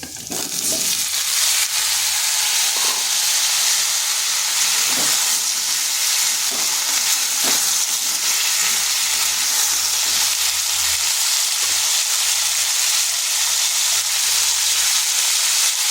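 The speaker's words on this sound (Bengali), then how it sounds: "আলুটা হালকা ভাজা হয়ে গেছে। এরপর দিয়ে দিচ্ছি কেটে রাখা কুমড়োগুলো।" Cut pumpkin added to lightly fried potatoes sizzles steadily and loudly in a hot pan, with occasional clinks and stirring scrapes over a constant frying hiss.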